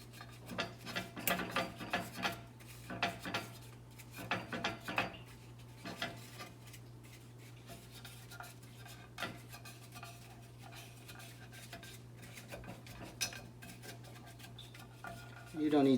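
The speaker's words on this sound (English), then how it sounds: "I'm going to coat each one of these pockets with some vegetable oil to prevent any batter from sticking to this" Paper napkin rubbing vegetable oil into the metal pockets of a Nordic Ware stovetop egg waffle iron, a series of scraping, clinking strokes over a steady low hum, with no talking.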